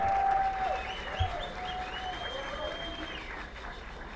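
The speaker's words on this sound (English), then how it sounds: "A round of applause for our minister." Indoor applause from the audience at an Indigenous pre-COP event for the minister, a steady wash of clapping under a held tone and some voices.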